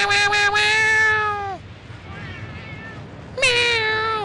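Two long, drawn-out cat meows from the video game Monster Hunter 3, loud and near, with a falling pitch and a quieter gap between them.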